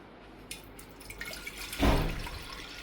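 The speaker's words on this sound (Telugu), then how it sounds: "చెంబుడు నీళ్ళు పోస్తున్నాను" Water from a vessel poured into a pot on a kitchen stove, a brief splashing gush near the end after a few faint drips and clinks, close and modest in volume.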